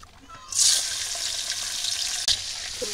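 Bottle gourd cooking with shrimp paste in a pan gives a loud, steady sizzle that bursts up after a quiet start, with a brief clatter of stirring near the end.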